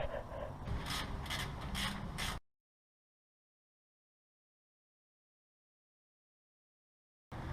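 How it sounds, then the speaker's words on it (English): Nuts are threaded onto the rear axle of a 1987 Toyota 4Runner, a quick close run of metallic ratcheting clicks that stops abruptly into silence before a brief burst of noise returns at the end. "so now we just thread those 4 nuts onto the back"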